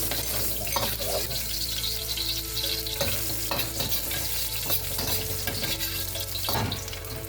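Chopped ginger sizzles in hot cooking oil in a pan, a steady dense frying hiss with stirring clatter, close and continuous, no talk, while a Filipino sinigang na tilapia is being prepared.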